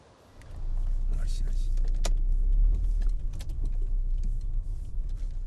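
An elderly driver gets into a private car: a thump and jingle of keys and door handling, then a steady low engine rumble with clicks and a brief rattle, and a voice speaking faintly.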